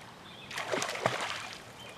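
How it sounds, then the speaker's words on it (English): A hooked brown trout thrashes at the surface of a river, giving a short burst of splashing and sloshing water, close and moderately loud, with a sharp slap near the middle before it fades. "And the splashes tell you it's not a roach."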